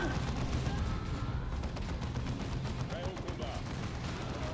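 A grenade explosion and rapid gunfire from a Dawn of War 2 battle crackle on continuously as a dense, faint barrage with scattered sharp cracks.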